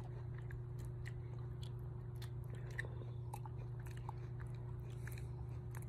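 A lamb chews a caramel apple with faint, irregular crunchy bites and wet chewing sounds over a steady low background hum.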